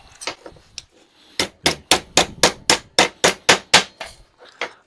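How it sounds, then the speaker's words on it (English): A small ball peen hammer strikes metal on a thick table in a garage while a clawed glove is shaped, first a few light taps and then a steady run of about ten loud, ringing blows, with one last softer hit. "if you have a smaller ball peen hammer, you can do some more precise work"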